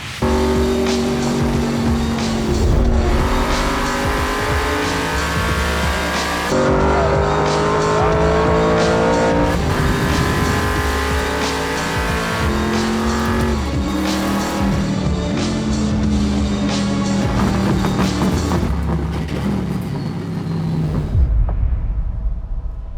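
The world's fastest Camaro race car roars under hard acceleration, its engine loud and continuous from inside the car as the pitch climbs and drops through repeated gear changes, with tires squealing, before it suddenly cuts off near the end.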